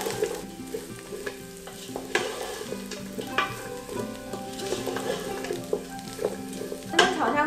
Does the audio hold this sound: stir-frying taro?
yes